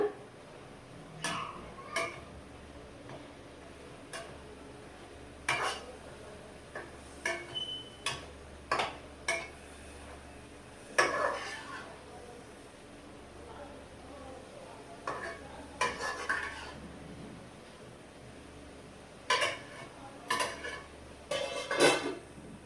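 A spoon stirs and scrapes through frying tomatoes and greens in a cooking pot, giving close, irregular clinks and knocks against the metal over a soft background hum.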